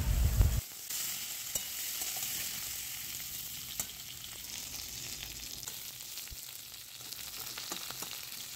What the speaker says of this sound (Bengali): এবার পটলের টুকরোগুলো তেলের মধ্যে দিয়ে সামান্য একটু হলুদ দিয়ে পটলগুলো ভেজে নেওয়া হবে।